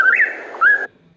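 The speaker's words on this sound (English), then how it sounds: "Whippoorwill." Whippoorwill giving a single clear, close whistled call with rising inflections, a brief sweet phrase cut off abruptly after under a second.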